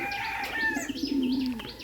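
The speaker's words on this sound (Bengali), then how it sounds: "এই যে আসছে মাটিতে কবুতরগুলো" Rajshahi Giribaz pigeons on the ground give soft, rolling coos close by, with a few higher chirps and brief rustling, and no voices.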